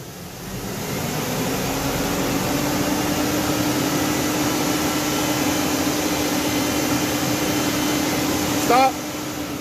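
The 5.3L V8 of a 1999 Chevy Silverado with a lean-running fault is held at about 3,000 rpm, giving a loud, steady droning hum that barely changes, with brief voices over it near the end.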